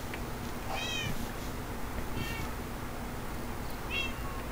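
Cat meowing in the Minecraft video game, three short plaintive meows spaced a second or so apart over a steady background hiss, moderately loud, no talking.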